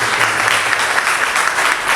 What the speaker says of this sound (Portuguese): aplauso para ele e para essa vez